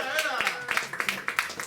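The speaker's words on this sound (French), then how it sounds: "Sous les applaudissements" A small group claps in short, scattered bursts, with voices talking and laughing around it; the applause is thin and close rather than a full crowd.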